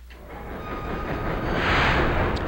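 Moving train in the Klonoa 2: Lunatea's Veil video game, a steady rumbling rail roll that swells slightly louder toward the end, heard alone without talk.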